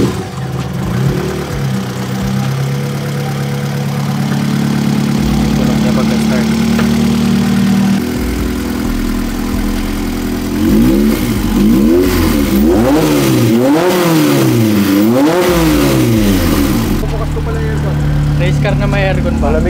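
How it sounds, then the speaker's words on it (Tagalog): Honda EG fitted with a B16B engine, idling and then revving in several rising and falling pulls, loud and close, with people talking over it. "Naka-engine tayo ng B16. B16B na engine."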